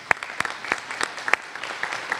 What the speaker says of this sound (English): if we could give ourselves a round of applause real quick for that